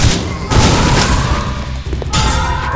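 Gunfire in the survival horror game Resident Evil Survivor 2 Code: Veronica: loud, close bursts of shots with booming impacts, one volley after another across the whole stretch with no talking.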